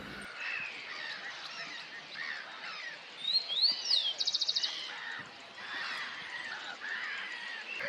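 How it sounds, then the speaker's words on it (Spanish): A rufous hornero calls at Laguna de Navarro: a short burst of bright chirps ending in a quick rapid trill, moderately distant over steady outdoor background noise. "Otro que andaba por ahí era el hornero, pájaro muy abundante y que es el ave nacional."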